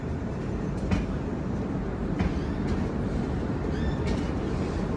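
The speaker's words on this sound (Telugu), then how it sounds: "ఇంక 4 గంటల 20 నిమిషాలు లేట్గా మన ట్రైన్ గూడూరు ఎంటర్ అయిందనమాట." SMVT Bengaluru–Howrah Express pulling into Gudur junction, a moderate continuous rolling rumble with a few faint squeals and clanks scattered over it.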